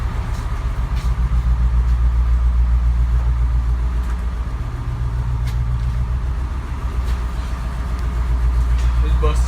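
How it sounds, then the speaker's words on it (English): A 17-year-old Bluebird International bus engine idles after a rough cold start, a loud, steady low rumble that holds throughout with faint clicks on top. "Bus 17 years old, still runs almost perfect."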